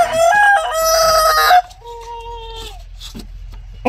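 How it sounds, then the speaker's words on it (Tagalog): A rooster crows loudly and close, one long strained call, followed by softer clucking and a shorter, fainter crow. "Mga manok na alagaan ko tol."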